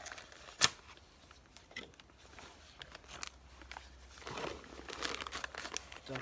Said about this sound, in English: Cut this bag open.